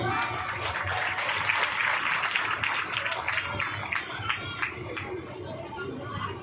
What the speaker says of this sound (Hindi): आइए आचार्य जी का मीठी मीठी ताली स्वागत करते हैं